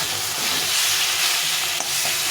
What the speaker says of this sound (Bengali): তো আমি ভালো করে কষিয়ে নিচ্ছি